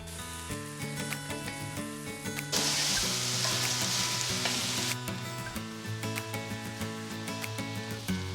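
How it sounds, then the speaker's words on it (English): Cubed eggplant fries in a pan with chilies, salt and bell peppers, giving a steady, loud sizzle throughout along with clatter from stirring and a stretch of harsher hissing in the middle. "Add the cubed eggplant and keep stirring well for at least 5 minutes."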